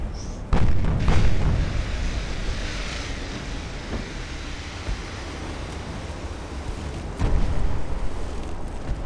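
Heavy shells slam into a French warship during a naval battle in Ultimate Admiral Dreadnoughts, with deep booming impacts at the start and near the end over a continuous rumbling roar of fire and sea.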